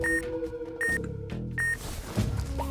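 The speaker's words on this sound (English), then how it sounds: "It's probably easier than trying to listen for the beeping." Repeated electronic beeps from the video game Metal Gear Solid 3: Snake Eater, sharp tones returning at roughly even intervals over low in-game background sound and a rumbling tail.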